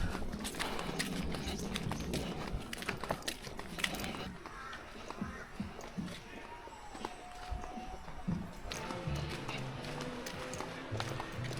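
Horse hooves clip-clop at a walking pace on a nature camp trail, a close, irregular series of knocks under ongoing talk and ambient outdoor noise.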